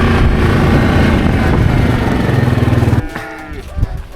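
Cattle low loudly in a sustained, close moo for about three seconds during a round-up of missing stock, then a quieter stretch follows with a faint engine-like rumble.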